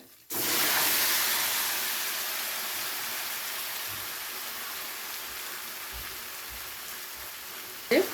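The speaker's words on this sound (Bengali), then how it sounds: "এবারে দিয়ে দেবো ম্যারিনেট করা চিকেনটা" Marinated chicken for a spicy roasted butter chicken curry hits a hot pan with a sudden loud sizzle that settles into a steady, close hiss lasting several seconds.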